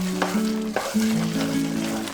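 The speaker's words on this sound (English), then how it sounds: "We'll saute again," Chole masala with added milk powder sautés in a pan, a steady sizzle with a few stirring knocks, under a sustained tonal hum.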